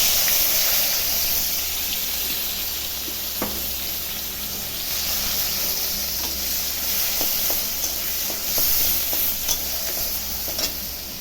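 Onions frying in oil in a wok with dried red chilli and cumin, a steady close sizzle broken by scattered stirring scrapes and clicks, no talking.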